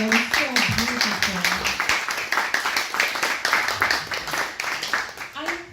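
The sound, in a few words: audience applause for Skylar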